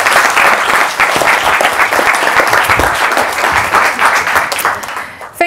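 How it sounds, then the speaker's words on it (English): Audience applause for a speaker at a lecture event, a dense, steady wash of clapping from a crowd that holds loud throughout and then fades near the end. "Ladies and gentlemen, a big applause for Esther Jacobs."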